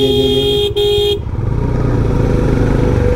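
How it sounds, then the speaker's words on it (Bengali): A double horn on a GPX Demon 250cc motorcycle blares loud and close in one long blast with a momentary break, then cuts off, leaving the bike's engine rumbling on its own. "সো এখানে ডাবল হর্ন লাগানো, ইনস্টল করা"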